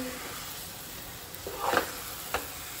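Black raisins sauté in a pan during mango burfi making, a faint steady sizzle with a brief louder burst of stirring and one short scrape near the end.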